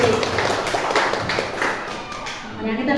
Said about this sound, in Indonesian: Kasih tepuk tangan nih buat Bu Haji